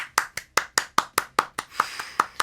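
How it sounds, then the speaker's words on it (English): A single pair of hands claps about a dozen times at a quick, even pace, close and crisp, with short gaps between the sharp slaps. "Round of applause."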